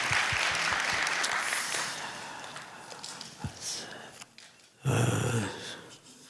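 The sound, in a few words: church congregation applauding in welcome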